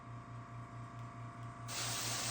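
An airbrush blows air during cleaning, a steady close hiss that turns sharply louder and brighter toward the end as the air flows more fully, over a faint low mechanical hum.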